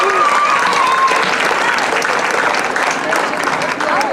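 A crowd applauds loudly at an outdoor national holiday celebration in L'Île-Bizard–Sainte-Geneviève, steady dense clapping with scattered whistles and cheers throughout.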